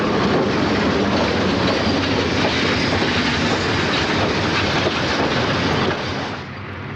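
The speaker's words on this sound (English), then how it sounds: "a two-car train of stainless steel bi-levels is being pushed into Chicago" A two-car passenger train of stainless steel bi-levels pushed by an FP7A locomotive rumbles past close by, a loud steady roar of wheels on rails that eases slightly at the end.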